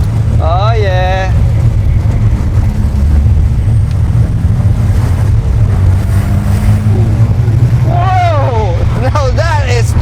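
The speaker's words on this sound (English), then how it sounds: "Now that is turbo boost" Mazda RX-7 FD rotary engine with a sequential turbo system, a loud, steady in-cabin engine drone under boost, with people talking over it at the start and end.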